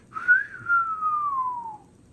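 A single human whistle, nearby and alone: one long clear note sliding gently downward over about two seconds, a whistled snatch of a film theme.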